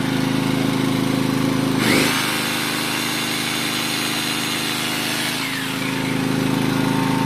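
A 1.4 kW rotary hammer drill whirs steadily over a droning Kamastsu KS3800E petrol generator, cutting in sharply, running for a few seconds, then winding down while the generator hum continues.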